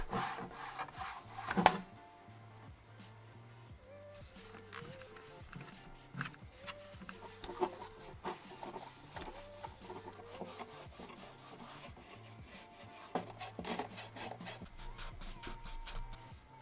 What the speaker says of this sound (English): A cotton pad with some rubbing alcohol is just what I need.